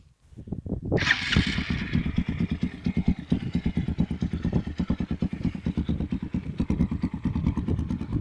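A Zongshen ZS 200 GY motorcycle engine starts and then runs steadily at idle with a close, loud, rhythmic thumping chug and a mechanical clatter, and no voices are heard.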